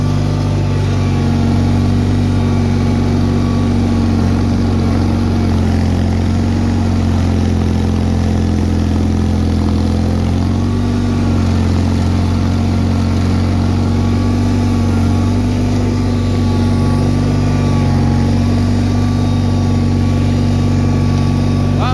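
A Bolens HT-23 garden tractor engine with a blown head gasket runs steadily, a loud, continuous low mechanical drone with little variation throughout, close by.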